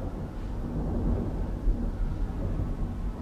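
Thunder from a Toronto storm over an open field rolls as a long, low, continuous rumble, fairly faint and distant, with wind buffeting underneath.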